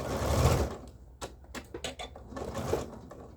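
A sewing machine stitches the waist seam joining a dress bodice to its skirt, a soft, quick run of rhythmic mechanical taps and whirring in short bursts, fairly quiet and close, with a muffled thump at the start.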